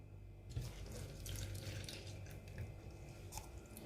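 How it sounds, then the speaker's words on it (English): Liquid milk poured from a one-cup measure into a blender jar that already holds powdered milk, a soft, steady trickling splash that stays close and quiet, with no voices. "I'm going to be adding liquid milk to it"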